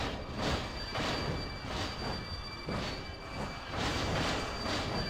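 A toy New York steam train runs with its piston submerged in water, giving a steady rhythmic chuffing and rattling hiss that pulses roughly every second, continuous and close with no talk.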